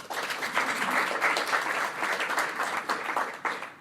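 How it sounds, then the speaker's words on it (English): A conference crowd at DevFest Vienna 2025 applauds to greet a speaker, dense continuous clapping that swells early and tapers slightly, with no voices over it. "with some applause again, please"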